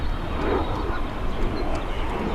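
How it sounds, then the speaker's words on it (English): Jet airplane passes overhead above a lakeside park trail, a broad, steady roar heard from a distance without any talk. "Here we have a jet going over."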